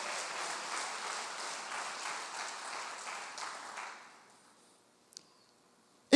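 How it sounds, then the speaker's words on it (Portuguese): A church congregation claps hands together in a dense, steady burst for about four seconds, then fades to near silence, broken by a couple of sharp clicks at the end. "Bata as palmas para o Senhor."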